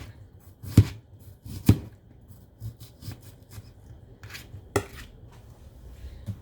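A knife slicing a zucchini on a cutting board for a relish tray: a few distinct chopping thunks and light scraping taps, irregular and fairly quiet, with no talking.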